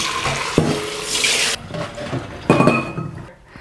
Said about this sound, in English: I will discard this water.